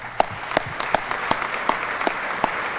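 An audience applauds steadily at the 2002 GAMA Career Achievement Award ceremony, a dense, even wash of clapping with a few sharper claps standing out, and no voices over it.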